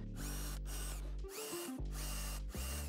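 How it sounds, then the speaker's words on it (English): A power drill bores holes through a hinge jig, running in several loud, steady bursts with brief pauses between them as the bit spins up and down. "now I can drill my holes here"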